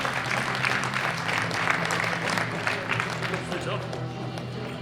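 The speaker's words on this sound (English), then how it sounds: "Big round of applause for all of our winners." Spectators at a world open powerlifting championship applaud the winners of the men's 74 kg class, dense, loud clapping that fills the hall with a steady roar, while a voice may murmur faintly beneath it.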